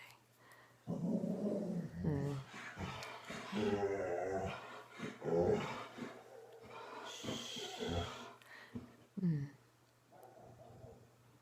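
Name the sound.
dog barking and growling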